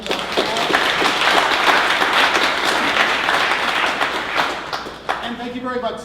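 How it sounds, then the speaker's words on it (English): An audience at a tech startup event applauds continuously, a dense wash of many hands clapping that fades out near the end as a voice starts speaking. "Let's give him and his team a round of applause."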